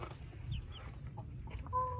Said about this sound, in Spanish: Y son de todas mis gallinas.